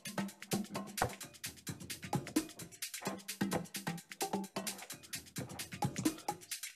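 Shaker loop locked together with closed hi-hats in a conga-driven dance track, a steady, fairly quiet pattern of crisp rattling ticks over a soft thumping groove, with no one talking.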